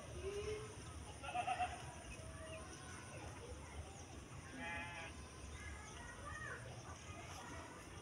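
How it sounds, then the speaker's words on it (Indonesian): Jawa randu goats and sheep bleat at a livestock pen, with several wavering calls rising from a busy, noisy farmyard background while people talk faintly nearby. "Di seputaran hewan bosku, kambing dan domba."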